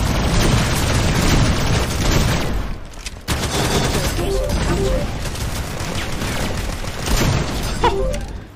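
Gunfire in the shooter ShadowGun War Games, with dense, loud bursts of shots and booming impacts that nearly fill the whole stretch, broken by a brief dip before rapid fire resumes.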